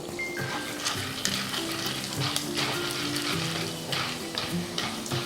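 Chana dal and urad dal frying in oil in a clay pot on a low flame, a dense, steady crackling sizzle with stirring scrapes throughout, close and fairly loud.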